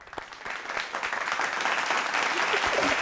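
A comedy show audience claps as two guests arrive, applause building from scattered claps into a full, steady ovation that grows louder through the end.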